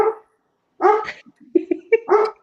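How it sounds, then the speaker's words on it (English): A roommate's dog barks indoors, a short bark followed by a burst of several quick yips and a final louder bark, close to the microphone with no talk over it. "there's a dog barking here"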